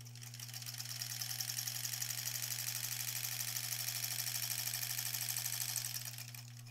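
A sewing machine stitches the back of a granny squares quilt in one continuous run, its rapid rhythmic whirring rising in after a moment and easing off near the end over a steady low electrical hum.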